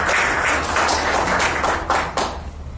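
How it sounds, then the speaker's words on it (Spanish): Audience applause at a formal forum on ISSSTE pensions in Michoacán: a brief burst of crowd clapping, fairly loud and close, fading slightly near the end. "Un aplauso, por favor"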